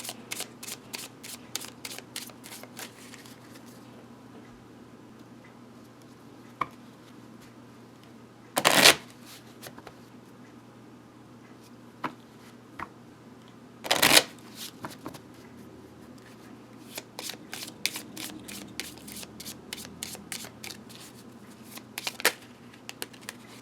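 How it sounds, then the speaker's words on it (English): Tarot cards being dealt out into a pyramid spread, with quick crisp flicks and light shuffling, plus two sharper snaps of cards slapped down close by in a quiet room. "Then we're going to throw cards around."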